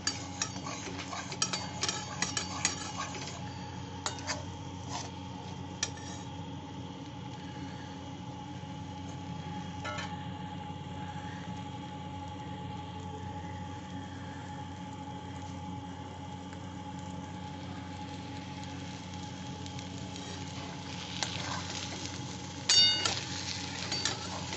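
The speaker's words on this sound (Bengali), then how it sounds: "একটু নুন দিয়ে এটা নেড়ে দিচ্ছি" A pan of green pea kachori filling being stirred with salt as it dries out, with faint, steady scraping and light clinks of a utensil over a low background hum, no talking.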